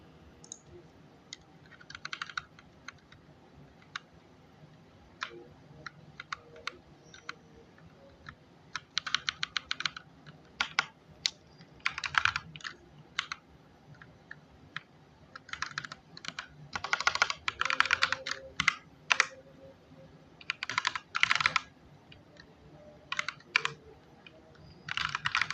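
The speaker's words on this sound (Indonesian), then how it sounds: "kalian ubah sesuai yang gue ketik nih" Typing on a computer keyboard, heard close and fairly quiet, in irregular bursts of rapid key clicks separated by short pauses, with no talking.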